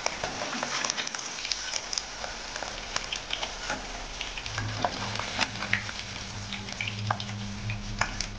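Paneer pieces fry in hot oil with a steady, close crackling sizzle that runs the whole time, and a low hum joins partway through.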